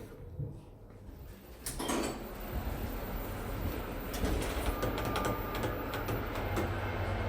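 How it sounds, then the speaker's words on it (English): Glass doors of a 2007 Thyssenkrupp machine-room-less lift at the National Railway Museum in York slide shut with a mechanical rumble and clatter, followed by a steady motor whir, close and moderately loud. "These doors will close."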